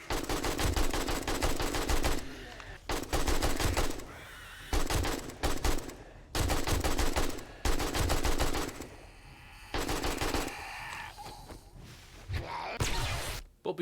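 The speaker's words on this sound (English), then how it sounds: "we just pulled out the AK and unloaded" Bursts of rapid automatic AK rifle fire in the 7 Days to Die video game come in several loud sustained volleys separated by short pauses, with a few quieter game sounds between them.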